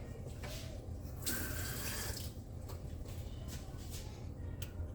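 Water runs from a kitchen tap into a sink while a meal with mushrooms and onions is being cooked. The stream is a soft, steady hiss with a brief stronger gush partway through, heard close up and on its own.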